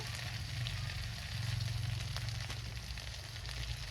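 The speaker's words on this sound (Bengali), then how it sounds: "মশলাগুলো দিয়ে ভালো করে মাছগুলো ভেজে নেব" Prawns frying in oil with turmeric and spices, a steady, close sizzle with crackling and spattering that holds evenly throughout, with no voices.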